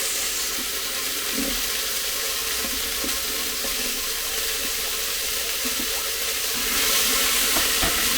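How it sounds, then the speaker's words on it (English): Steak searing and browning in a hot pan for a steak and onion pie filling gives a steady, continuous sizzle with no talk, and it swells slightly louder near the end. "you can hear that sizzling away and it is nicely browned"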